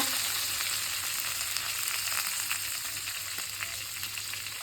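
Ginger-garlic paste frying in a pan for mango pickle, a soft steady sizzle with a few light stirring scrapes, close and free of speech.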